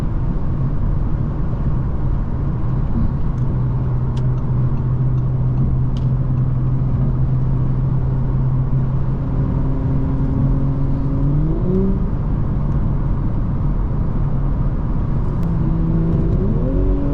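Engine of a 2020 Audi S4 Prestige with the 3.0T motor while driving, a smooth steady drone with a long held cruise note that then climbs through revs, heard continuously from the cabin without talk.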